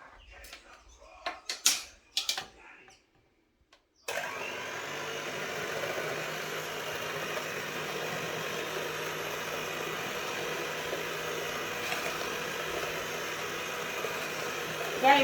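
After a few soft kitchen clatters, a Von Chef hand blender on its lowest speed setting starts up and whirs steadily and fairly quietly for about eleven seconds.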